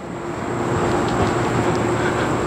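A train passes near a quiet station set among houses and trees in Riverdale, the Bronx, giving a steady, fairly loud rumble and hiss that holds for the whole stretch, with no voices.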